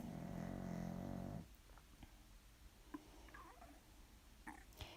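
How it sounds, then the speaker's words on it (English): A sleeping dog lets out one long, low, rumbling snore that lasts over a second, then the room falls quieter with only faint shuffles and small clicks close by. "that's my dog snoring."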